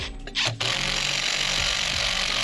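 A power screwdriver drives muffler screws into the engine of a Stihl FS131 trimmer during a shortblock replacement, giving a short burst of buzzing motor whine and then a steady mechanical drone, close and fairly loud with no talking.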